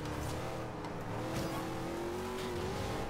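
A Toyota Supra drifts in a racing video game, its tires squealing in a long rising whine over a loud, steady engine roar.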